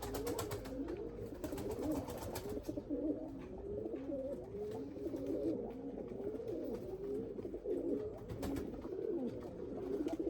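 Lemon-colored breeding pigeons coo in a large coop, a dense chorus of rolling, overlapping calls continuing steadily at close range, with some wing flutter and rustling.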